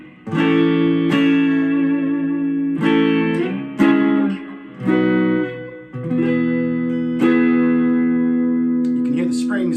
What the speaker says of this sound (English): This is full clean, running through a Boss Katana 150 in the first position.